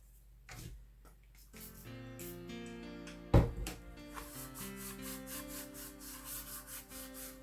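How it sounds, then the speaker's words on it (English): Hands rubbing damp paper over a wooden porch sign, a soft close scrubbing with one brief knock partway through, set against faint tonal background music and no talking. "rub it over the surface till it's nice and wet"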